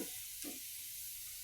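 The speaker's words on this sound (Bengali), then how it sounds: "দেখুন আমার পেঁয়াজ কি সুন্দর ভাজা ভাজা হয়ে যাচ্ছে।" Onions fry in a pan with a soft, steady sizzle and a few brief stirring scrapes, quiet and close.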